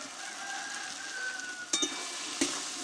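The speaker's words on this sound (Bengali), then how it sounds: "একসঙ্গে মশলার সঙ্গে ভালোভাবে একটু কষে নেব" Chicken masala with chopped coriander frying and being stirred in a pan, giving a steady low sizzle with two sharp clinks of the stirring utensil against the pan.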